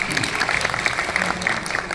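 A theatre audience claps in a dense, steady burst of applause that fills the whole two seconds at an even level.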